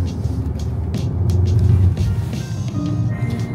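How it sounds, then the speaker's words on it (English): Road traffic with cars passing nearby, a continuous loud engine and tyre rumble that swells midway as a vehicle goes by, with no speech. "This traffic is insufferable."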